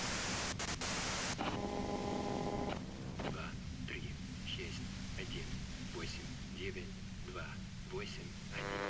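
Broad radio static hisses loudly from a radio in the video game Disco Elysium, a dense white-noise wash with faint garbled tones and brief tonal bursts early on, then steady crackling hiss throughout.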